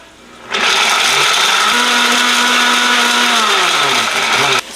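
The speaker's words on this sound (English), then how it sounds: "So blend this up." A blender runs loud and steady, blending bacon and stock for Texas chili, starting abruptly, droning evenly for about four seconds with a slight pitch shift, then cutting off.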